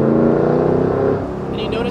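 A tuned car accelerates with a lurching, slightly uneven pull under precise throttle, its engine drone loud and steady from inside the cabin for a couple of seconds.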